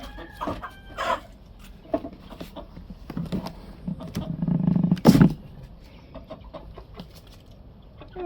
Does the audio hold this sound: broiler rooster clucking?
yes